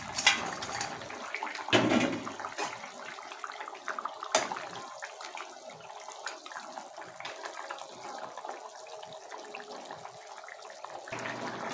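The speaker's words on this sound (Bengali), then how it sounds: "তো আমি মাছটা দিয়ে দিচ্ছি।" Fish slides into a thin, boiling curry broth in a home kitchen, giving a brief splash and sizzle followed by steady bubbling and simmering.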